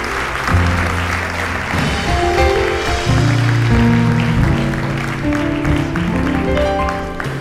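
Church congregation clapping hands together during a service, a steady broadband wash of applause with organ or keyboard chords sustained beneath it throughout.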